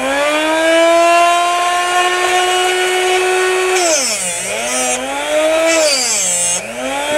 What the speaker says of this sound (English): We're gonna show you how to grind that.